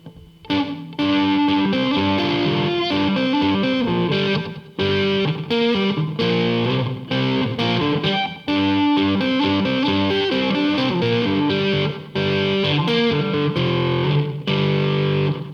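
Electric guitar finger-picked Travis-style on a riff, a steady rolling pattern alternating bass notes under melody with occasional muted string clicks, played continuously and close.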